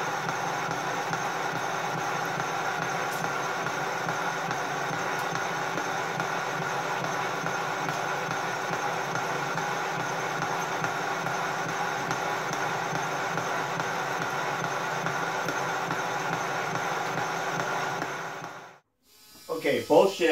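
A lathe-type machine cuts a radius on metal, a steady even whirring grind holding unchanged for most of the stretch before cutting out abruptly near the end, where a brief rattle follows.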